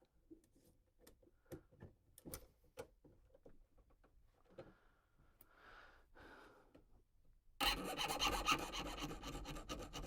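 Old, dull files rasp on a metal part of a Savage 87 .22 rifle, first as scattered close scrapes and ticks, then a loud, continuous grinding rasp over the final seconds.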